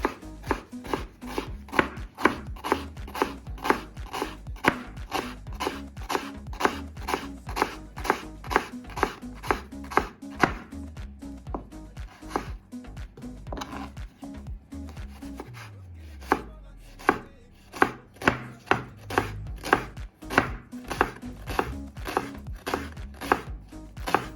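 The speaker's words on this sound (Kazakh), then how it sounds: "Пияз да көп керек емес. Майдалап турап." An onion being finely chopped on a board, a long run of sharp, fast, evenly spaced knife strikes close up, with a short slower stretch partway through.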